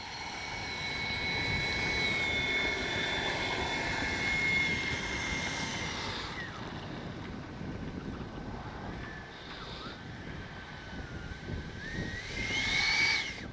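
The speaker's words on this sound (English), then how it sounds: "Good flying plane though." A Freewing 80mm MiG-21 RC jet with a new power system flies overhead with a high electric ducted-fan whine that rises and falls in pitch as it passes, set against wind noise and swelling again near the end.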